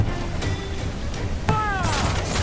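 Ship cannons boom in a naval battle in Assassin's Creed IV Black Flag, a few heavy blasts over a steady roar of battle noise, with a sharp crack near the middle followed by whistling shots; shouting voices mix in.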